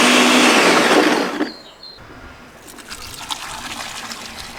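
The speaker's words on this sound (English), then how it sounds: "You put it on max blend and voila, like magic" A Ninja blender on max blend whirs loudly, blending a concentrated ginger drink, then cuts off abruptly after about a second and a half, leaving quieter liquid sloshing and faint clinks.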